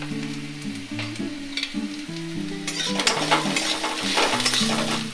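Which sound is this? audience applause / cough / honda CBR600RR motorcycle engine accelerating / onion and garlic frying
onion and garlic frying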